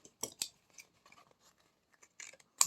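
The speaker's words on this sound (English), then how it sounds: "Watch your scissors." Scissors snip through a paper label for an art box, a few sharp, crisp cuts with quiet gaps of rustling between them, near and fairly faint with no voices.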